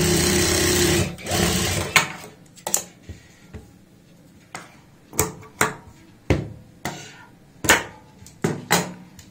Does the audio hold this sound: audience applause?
no